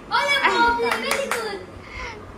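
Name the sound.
child clapping hands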